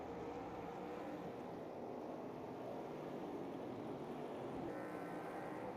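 Classic GT race cars lapping in the AMS2 racing game, a steady broadband engine and tyre roar with no break, moderately quiet and distant-sounding, without distinct gear changes or passes standing out.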